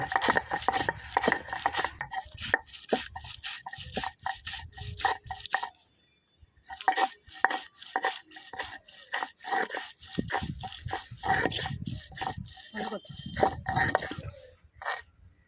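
Ginger is ground into paste on a shil pata grinding stone in rapid, rhythmic rubbing strokes. A short pause breaks the run before the rough, scraping strokes resume steadily.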